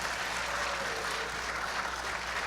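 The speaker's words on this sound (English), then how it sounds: "Yes, another round of applause." Audience applause at an awards show, a steady wash of clapping from a crowd, sustained and fairly distant without a break.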